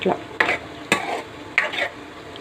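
Ivy gourd curry with coriander simmering while being stirred, a soft continuous sizzle under four distinct scraping strokes of a spoon against the pan, close and fairly loud.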